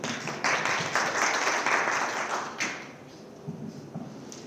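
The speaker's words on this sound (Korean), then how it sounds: "박수 부탁드립니다" Applause at a university innovation forum session, a dense burst of many hands clapping that fades after a few seconds, leaving scattered claps and faint room noise.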